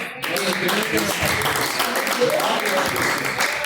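Congregation applauding during a live Pentecostal church service, steady overlapping clapping from a crowd with voices talking over it.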